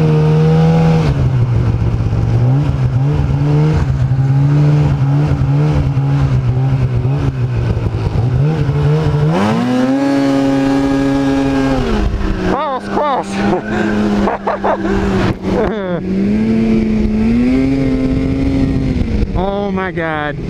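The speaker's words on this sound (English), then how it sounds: "this is a Polaris Indy 800 SP." A Polaris Indy 800 SP snowmobile engine revs loud and close on a snowy group ride, its tone rising and falling with throttle changes and sharp climbs in pitch, while people talk over it.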